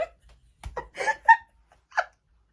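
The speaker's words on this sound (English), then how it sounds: "I just like totally burped" A person lets out a short, low burp up close, followed by a few brief breathy vocal bursts that sound like giggles or hiccups.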